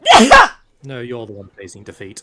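A short, sharp burst like a sneeze right at the start, followed by a pause and then someone speaking.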